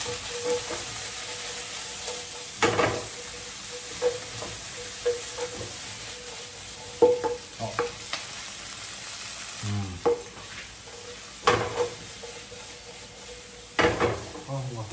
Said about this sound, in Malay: So masukkan sedikit bawang. Right. So kita tumis saja.